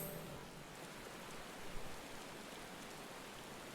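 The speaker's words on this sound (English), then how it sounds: "pouring rain" Steady pouring rain falls over a castle in Final Fantasy XIV, a dense, even hiss of downpour that holds at constant level throughout with no talk.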